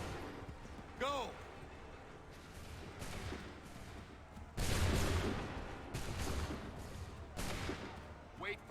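Musket volleys in an Assassin's Creed video game go off in several loud, broad bursts of gunfire spaced a few seconds apart, mixed with shouted voices and a background rumble.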